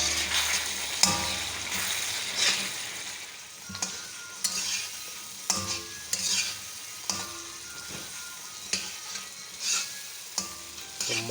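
Green chillies and cumin fry in desi ghee with a bright, steady sizzle, broken every second or so by loud stirring scrapes and clacks of a spoon, close up and with no voices.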